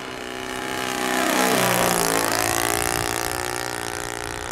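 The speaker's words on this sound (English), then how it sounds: "I love that low sound. This is four-stroke." A Thunder Tiger 54 four-stroke glow engine on a model trainer plane drones steadily with a high, buzzing pitch that rises and falls as it passes close, loud throughout with no talk.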